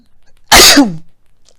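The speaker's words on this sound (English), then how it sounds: "Oh, I'm about to sneeze, y'all." One sharp, loud sneeze bursts out from a person close by, with a brief trailing vocal tail and quiet surroundings before and after.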